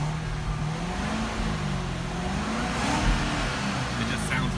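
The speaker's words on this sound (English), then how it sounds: "I was in the garage revving the engine" Corvette engine revving inside a garage, the exhaust oddly muted with little growl; a steady low engine drone with rising and falling harmonics runs throughout, with some voice-like sound mixed in.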